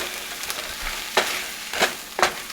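A spoon stirs mashed potato mixture thinned with a little milk, for potato and cheese empanadas, giving soft scraping and squishing strokes with a few distinct louder sweeps, close and alone.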